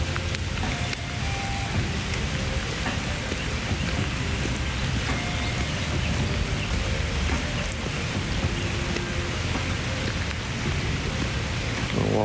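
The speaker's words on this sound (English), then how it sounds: "Nice gentle rainy day here in Arizona" Gentle rain falls steadily at an outdoor civic center mall in Scottsdale, Arizona, a dense, even patter on surfaces that stays constant with no pauses.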